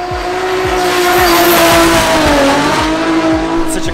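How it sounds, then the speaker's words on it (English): Drift cars at a Drift Masters event, engines screaming and tires squealing as the sound echoes off a surrounding forest; loud and continuous, with a sustained high engine note and repeated low thumps throughout. "Sound of the cars just echoing off this forest is deadly."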